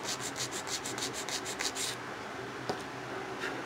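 Nail file on acrylic nails, giving quick rhythmic close-up scraping strokes, about a dozen in a row, followed by fainter, sparser rubs.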